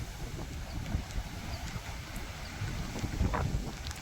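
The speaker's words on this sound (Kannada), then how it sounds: "ವಿಂಡ್ ಪವರ್ ಜಾಸ್ತಿ ಇವಾಗ." Strong stormy wind on Maravanthe beach during rain and heavy waves, a steady rough rumble buffeting the microphone with no voices.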